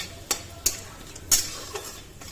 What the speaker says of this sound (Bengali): আমি সব উপকরণ তেলে দিয়ে দিলাম এগুলোকে আমি এক মিনিটের মতো সরি এক মিনিট বলছি এক সেকেন্ডের মতো ভেজে নিচ্ছি